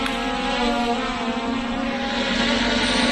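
A FIMI X8 SE drone hovers with a steady, loud propeller buzz, a continuous whine holding level with no other sounds and no talking.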